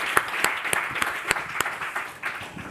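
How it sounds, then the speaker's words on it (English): Audience applause for panelists at a stroke-care meeting: a thin patter of clapping punctuated by a handful of sharper individual claps at fairly regular intervals, moderately loud and close. "a big applause for our panelists"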